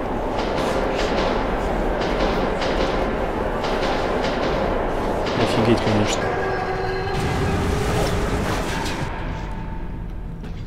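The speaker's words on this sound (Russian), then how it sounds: "Поезд едет." A train rumbles through a tunnel in the video game Metro 2033 Redux, a loud continuous roar with rattling, under a man's brief remark.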